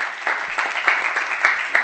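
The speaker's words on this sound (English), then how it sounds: "Give Ms. Lori a round of applause, everybody." Audience applause at a county meeting, a dense, steady patter of many hands clapping from a moderate distance, with no speech over it.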